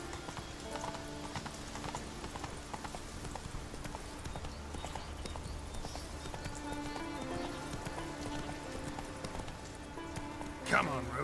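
A horse gallops steadily in The Witcher 3 video game, with continuous rhythmic hoofbeats that carry through the whole passage and a whinny near the end, while game sounds and speech continue alongside.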